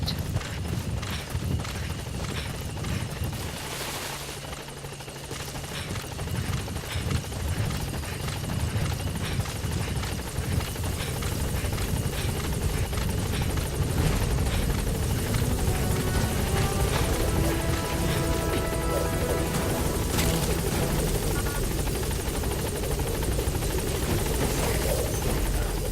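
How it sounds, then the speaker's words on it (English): A support helicopter arrives in the Metal Gear Solid 5 video game, rotor thumping continuously and growing louder as it closes in, with a dense, sustained roar and no speech. "Support helicopter has arrived."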